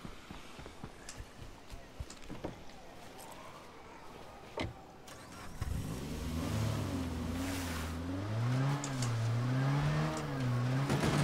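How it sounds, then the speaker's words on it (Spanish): A car engine in the zombie survival game State of Decay 2 starts up at dusk and drones steadily with rising and falling revs, loud and continuous after a quieter stretch of ambient noise and talk. "Yo no sé para qué cojo el coche, la verdad."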